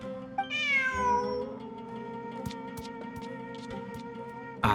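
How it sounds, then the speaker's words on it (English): A cat in Genshin Impact lets out a single bright, falling meow near the start, followed by light clicks and soft ambient game tones with a steady low hum underneath. "Who's a good kitty?"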